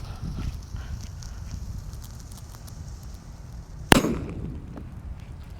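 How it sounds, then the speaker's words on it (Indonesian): A paper-wrapped mercon petir firecracker goes off in one sharp, loud bang, followed by a short decaying rumble over a quiet outdoor background. "Dan ini mercon petir yang dibuntel dengan kertas."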